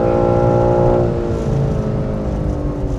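A BMW G80 M3 is driven hard around the Goodwood circuit, its loud engine roaring close by with a strong tone that slides gradually downward in pitch.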